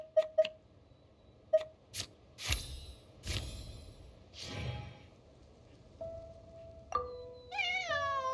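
A cat meows in Genshin Impact, with short high calls scattered through a quiet game scene, alongside clicks and soft rustling, then a longer rising meow near the end.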